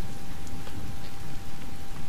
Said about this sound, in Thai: เฮ้ยฝนตกโอ้ยเกลียดมากเลยตอนฝนตกเนี่ย